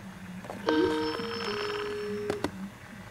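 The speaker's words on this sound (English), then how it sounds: "Remember that old Skype ringtone?" The old Skype ringtone sounds once on an iBook G4, a bright synthetic warbling chime of a few tones held for about two seconds, over a low background hum.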